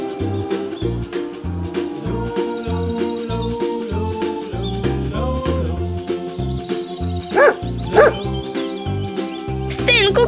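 Cartoon dog barks ring out over bouncy music and chirping bird calls in a children's farm animal cartoon, with repeated yips mixed among the melody and busy sound effects.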